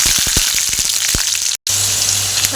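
Green chillies and onions crackle and sizzle in a hot pan with steady broadband frying hiss, a few sharper pops near the start, and a brief dropout midway before the sizzle resumes.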